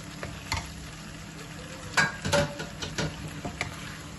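Boiled-egg curry for Singapore-style lontong is stirred in a pan. Scattered close spoon scrapes and taps sound over a low, steady sizzle, fairly quiet, with no voices.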